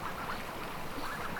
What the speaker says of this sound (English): So there's the 5 remaining ducks.